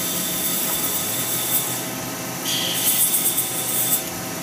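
A skew chisel cuts polyester resin spinning on a lathe, making a steady whirring hiss with a few brief scraping chatters toward the end, close and continuous.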